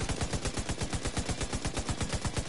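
Rapid automatic gunfire in the video game The Division 2, a fast rhythmic burst of evenly spaced shots that continues loudly and close throughout.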